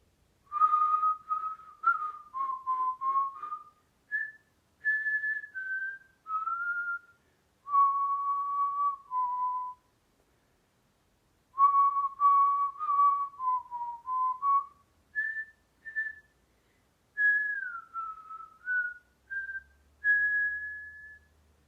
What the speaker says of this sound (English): I can still hear the song the boys were whistling